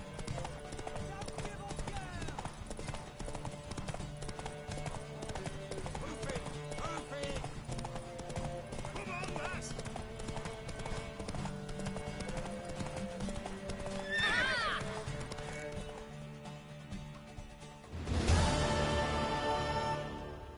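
In The Witcher III video game, a horse's hooves clip-clop in a steady rhythm alongside a game score, joined by a couple of neighs and whinnies, with a loud rustling burst near the end; voices speak over parts of it.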